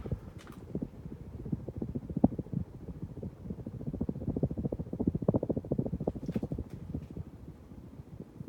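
A Hampton Bay Cameron II 44-inch brushed steel ceiling fan running, giving a steady low rhythmic thumping and whooshing of air, close, with a few faint clicks and no talking.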